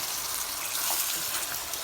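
One cup of water pours into a pot for Mexican rice, a short steady splashing stream, soft and continuous with no talk over it.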